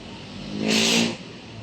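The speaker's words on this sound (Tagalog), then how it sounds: "highway nakakatakot ang mga sasakyan dito talagang" A single car speeds past on a busy highway, its whooshing engine rising quickly, peaking close by and then fading away in about a second.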